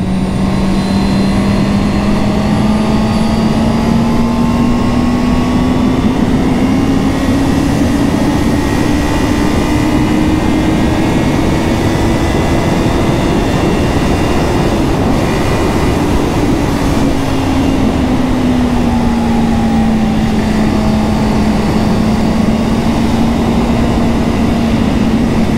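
A 2022 Honda CB650R motorcycle engine runs steadily and loudly, its drone rising and falling smoothly with throttle changes over the whole stretch, with no talk.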